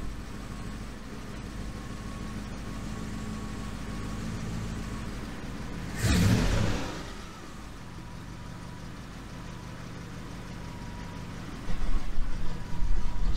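A Triumph Stag engine with a Stromberg CD 175 carburetor idles at about 700 RPM with a steady low rumble, briefly swelling into a louder burst midway as the throttle is tested, then settling back before rising again at the end.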